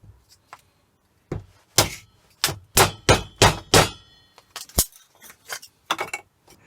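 A hammer bangs on metal inside a shed: a rapid series of loud, ringing clangs, close by, with a few lighter knocks and short pauses between them.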